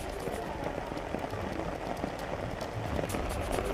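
Heavy rain pours steadily during a storm in Jammu, a dense, even hiss of drops hammering surfaces throughout with no pauses or voices.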